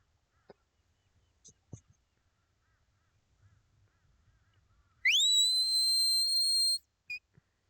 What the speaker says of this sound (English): So that's a stop whistle, just followed by a work there whistle.